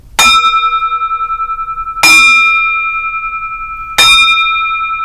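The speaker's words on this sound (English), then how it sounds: "this is our gong" A school gong once used by a former art teacher to start class is struck three times at even two-second intervals, each hit ringing out bright and metallic and then decaying slowly, with no talk.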